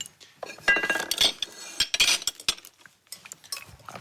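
A spoon scrapes and clinks against a bowl while mixing biscuit crumbs with butter for a crust, in a quick run of irregular, fairly close metallic taps and scrapes with brief pauses.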